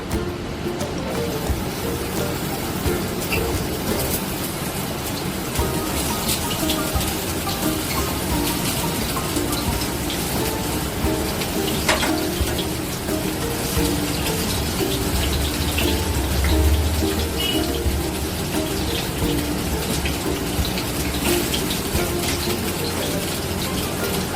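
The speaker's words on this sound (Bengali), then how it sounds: "তেলটা হয়ে গেছে, আমি এবার পটলগুলোকে কড়ায় ছেড়ে দেবো।" Pieces of pointed gourd sizzle steadily in hot oil in a wok, a dense continuous frying hiss that holds evenly loud and close throughout with no talk.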